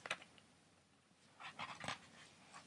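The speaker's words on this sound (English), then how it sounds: "7 dogs." Several dogs make faint, short whimpers and yelps, with a brief cluster of sounds at the start and another near the end separated by a quiet stretch.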